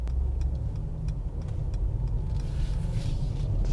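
A Mercedes-AMG GT with a V8 driving gently in comfort mode, a low steady engine rumble and road noise heard from inside the cabin, with no revving or bursts.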